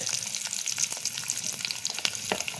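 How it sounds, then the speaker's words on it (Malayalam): Garlic, shallots, coconut pieces, green chillies and curry leaves sizzle in hot oil for a curry, a close, steady frying crackle with soft stirring scrapes and little pops throughout. "പച്ചമുളക്, കറിവേപ്പില എല്ലാം വഴറ്റിയെടുക്കുക."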